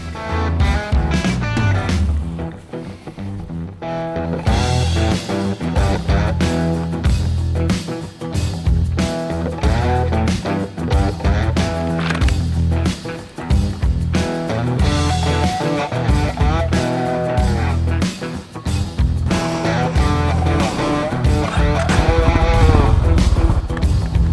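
Honda GB350S single-cylinder motorcycle being ridden, its engine note loud and close with steady throttle changes and some gear shifts, heard alone without talk.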